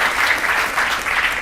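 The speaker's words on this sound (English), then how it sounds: "A round of applause for that." A brief burst of steady, dense audience applause on a Ugandan TV show, many hands clapping loudly and continuously throughout.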